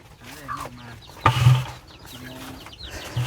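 Chickens cluck nearby in short, scattered calls, with a sharp knock partway through; the sounds come close and at moderate loudness amid light background noise.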